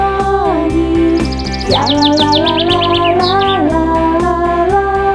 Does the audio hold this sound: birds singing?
yes